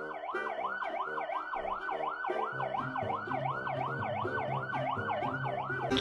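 A toy fire truck sounds its electronic siren, a fast, steady wail that rises and falls over and over at constant loudness, close and alone for the whole stretch.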